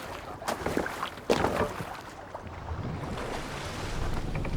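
A sailing ship moves across open water in the video game Assassin's Creed Valhalla, with a steady wash of sea and wind and a couple of sharper splashes early on, heard without voices.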